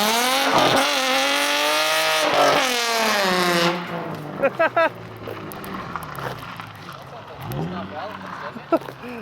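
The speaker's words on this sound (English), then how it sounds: "just do a reverse burnout" An Infiniti G35 doing a reverse burnout revs hard in rising and falling surges, then drops to rougher, choppier engine noise and scattered squeals, with people talking nearby.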